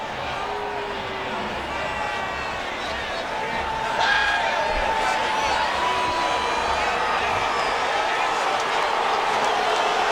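A NASCAR race crowd at the Bristol night race, a broad mixed roar of boos and cheers that swells a bit louder midway and continues steadily beneath a commentator's talk.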